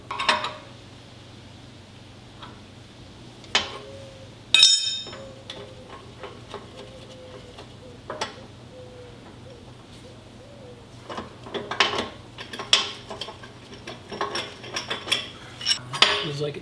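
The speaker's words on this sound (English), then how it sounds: "tighten it down a little bit." A wrench tightens parts on a Dana 30 front axle from a 1972 International Scout I, giving scattered metallic clicks, taps and clinks of tools against metal at close range, quiet between bursts.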